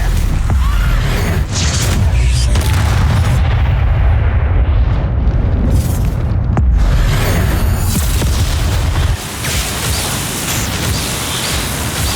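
Bombarda and Confringo spells blasting in Hogwarts Legacy battle, a dense, loud, continuous roar of booming explosions and rumbling bursts filling the scene with barely a pause.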